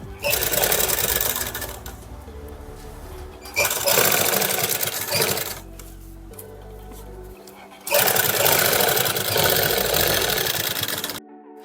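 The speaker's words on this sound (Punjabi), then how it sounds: "ਫਿਰ ਇਹਦੇ ਨਾਲ ਨਾਲ ਆਪਾਂ ਨੇ ਸਿਲਾਈ ਲਾਉਣੀ ਸਟਾਰਟ ਕਰ ਦੇਣੀ" A sewing machine stitches a lace strip onto a dupatta in three long, loud, steady whirring runs separated by quieter pauses, close by.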